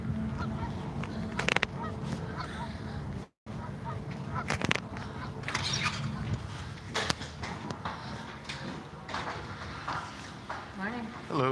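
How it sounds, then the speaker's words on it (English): Geese honking repeatedly outdoors, a scattered series of loud nasal calls mixed with footsteps and a voice talking over them. "Oh, I hear geese."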